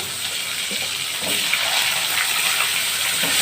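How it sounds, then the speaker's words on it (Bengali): Potatoes fry in hot oil in a pan with dried chili, giving a loud, steady hissing sizzle that rises slightly toward the end, with no talking. "আলুটাকে আমি একটু লাল লাল করে আমি ভেজে নেব।"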